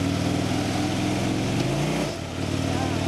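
A Harley-Davidson motorcycle engine revs under throttle in a garage setting, a loud, close, steady roar with a rising pitch that briefly dips near the end.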